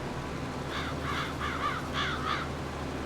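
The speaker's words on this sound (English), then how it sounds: "even the birds are loving it" Crows caw over a farm field during late-night fertilizing, several raspy calls in a loose sequence standing out above a steady tractor engine drone.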